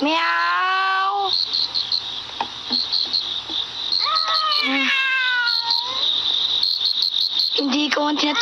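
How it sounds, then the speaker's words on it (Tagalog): A cartoon cat gives several high, sliding meows close up and loud, mixed with shrill insect-like chirping and a steady high tone throughout, with a final drawn-out meow near the end. "Meow!"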